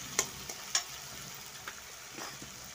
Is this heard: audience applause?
no